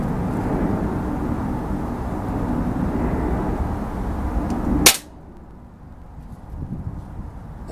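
An air rifle fires Baracuda pellets with a single sharp, loud crack about midway through, set against a steady low background rumble that turns quieter right after the shot.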